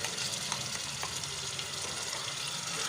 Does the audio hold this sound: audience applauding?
no